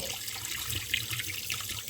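Cold tap water runs steadily into a sink while a fish is being cleaned, a close, continuous splashing stream with no talk.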